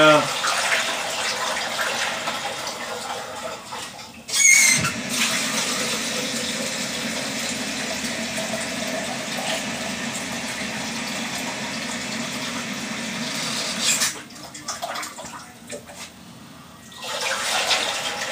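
Water gushes steadily from a tap or hose into a wooden whiskey barrel, one long loud continuous rush that starts abruptly, runs for about ten seconds, then cuts off, with brief handling noise around it.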